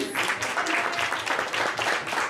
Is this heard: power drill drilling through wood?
no